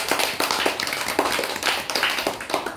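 Students clap their hands together in a classroom, a dense, steady patter of many overlapping claps that carries on throughout without talk.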